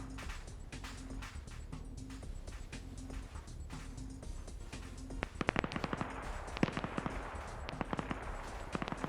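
Sustained automatic gunfire from a machine gun laying suppressing fire in the Arma Soviet-Afghan War PvP match, continuous rattling bursts that grow louder and sharper in the second half, with distant shots layered underneath.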